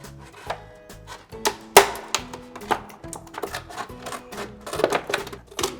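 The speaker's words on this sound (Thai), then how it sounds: "จากนั้นก็ใช้กรรไกรค่อยๆตัดนะครับ" Scissors cutting slowly through a plastic container being turned into a plant pot, a close run of crisp snips and clicks in an uneven rhythm, with no talk.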